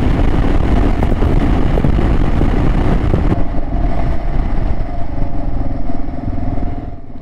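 Motorcycle engine running loud and close during a ride through high-altitude Peruvian mountains near 4000 metres, steady throughout, with wind buffeting and a slight drop in pitch and brightness partway as it rolls on.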